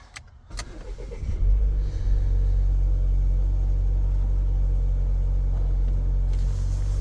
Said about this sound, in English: Let's try to start the engine as well.